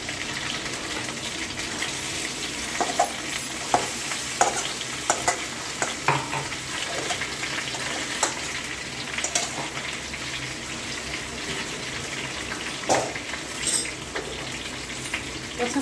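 Crab curry masala frying in a pan, a continuous close sizzle broken by frequent scraping clicks as it is stirred, without talk.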